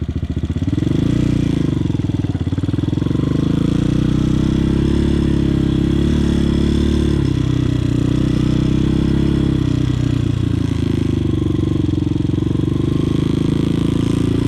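A motorcycle engine drones continuously up close as the bike weaves through a cone practice drill, a steady mid-pitched hum with slight rises and falls in revs and some light clatter.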